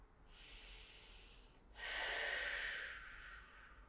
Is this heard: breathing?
yes